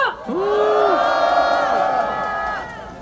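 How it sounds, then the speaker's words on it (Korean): Crowd at a Korean street rally cheering and shouting loudly with whoops, a sustained roar of voices close and dense throughout. "이두구 단장님께 다시 한번 박수 부탁드리겠습니다."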